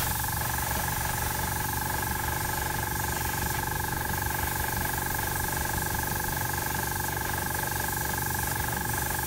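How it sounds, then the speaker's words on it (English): An airbrush compressor runs without a break beside a miniature-painting bench, giving a loud, constant mechanical hum and hiss with a steady tone and no speech. "Apologies for the compressor noise."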